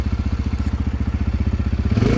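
A 2022 Yamaha TTR-125 dirt bike engine runs close by with a steady, fast chugging idle and a slight lift in revs near the end.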